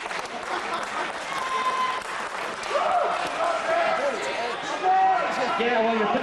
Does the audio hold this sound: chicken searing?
no